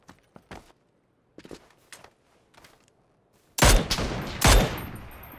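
Gunshots in the video game PUBG: several faint, distant cracks spaced apart, then two loud, close blasts with a lingering roar.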